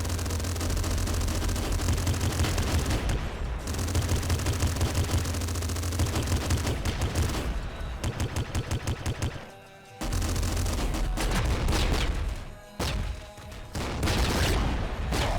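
Super flat cannon firing in the video game Nuclear Throne, dense bursts of rapid blasts and explosions with brief gaps, loud and continuous in chaotic waves.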